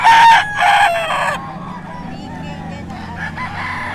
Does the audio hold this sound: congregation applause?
no